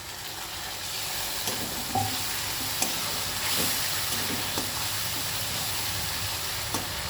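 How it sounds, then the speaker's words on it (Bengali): Continuous close sizzling and frying as a little water goes into spice paste cooking in a pan for a tengra fish curry, with scattered stirring clicks and steady hissing throughout. "এবার একটু সামান্য জল দিয়ে দিচ্ছি, যাতে তলায় ধরে না যায়।"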